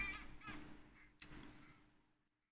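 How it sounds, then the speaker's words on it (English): Loud birds outside call in a few harsh, honking bursts, one sharp cry standing out near the middle before the sounds fade away to quiet. "those birds are loud"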